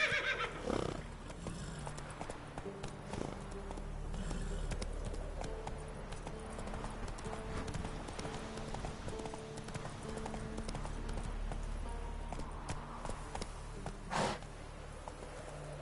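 A horse gallops in a video game: steady clip-clopping hooves with whinnies and neighs, loud and close, with a sharp snort or neigh burst near the end, and no clear speech.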